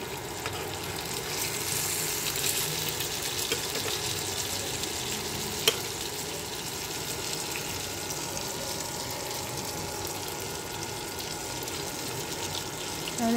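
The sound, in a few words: fish (sarpunti) frying in a frying pan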